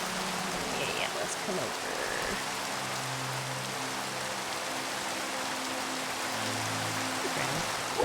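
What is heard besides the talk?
rain in Minecraft video game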